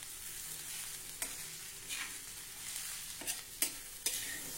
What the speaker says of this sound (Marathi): आणि 2 मिनिटांसाठी आता हे मस्त परतून घेऊ।